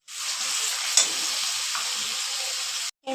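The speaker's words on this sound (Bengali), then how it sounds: "দিয়ে দিলাম বেটে রাখা মশলা" Ground spice paste frying in hot oil for a banana-blossom curry gives a loud, steady sizzle that runs unbroken for about three seconds, with a brief stir-scrape near the one-second mark, then cuts out abruptly.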